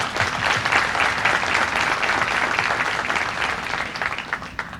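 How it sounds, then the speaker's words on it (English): An audience at a high school signing day event claps in sustained applause, a dense roomful of hands that stays loud throughout and tapers slightly near the end, with no clear speech. "Let's give her a round of applause."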